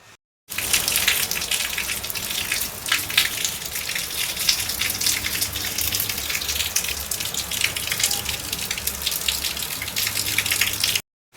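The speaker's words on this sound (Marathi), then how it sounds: "पण पाऊस लगेच आला बघा" Steady monsoon rain pours outside a home, a dense, continuous hiss that holds at an even loudness from start to finish, with no voices.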